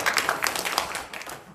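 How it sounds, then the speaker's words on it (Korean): Church congregation clapping to celebrate members' birthdays during a worship service, a brief burst of lively hand claps with distinct sharp strikes that fades after about a second and a half. "생일 맞은 분들에서 축하의 박수 해주시기"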